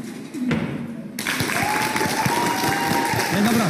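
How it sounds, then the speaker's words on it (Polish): An audience applauds at a school magic show, a dense burst of clapping that swells in suddenly and holds steady and loud, with crowd voices mixed in. "wszyscy biją brawo"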